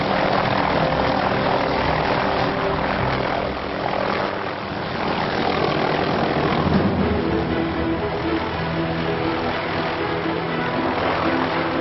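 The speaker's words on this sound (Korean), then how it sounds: "그럼 헬리콥터 준비 완료." A helicopter's engine and rotor make a loud, steady drone with a thrumming undertone, holding without pause and briefly dipping near the middle.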